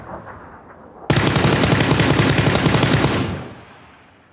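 Automatic gunfire in PUBG, a loud rapid stream of closely spaced shots lasting about two seconds and then trailing off into a fading echo.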